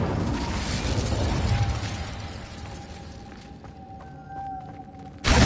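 An Incendio fire spell cast in Hogwarts Legacy: a loud burst of crackling, roaring flame that gradually fades into a thinner hiss with a faint ringing tone, then a sharp new burst at the very end.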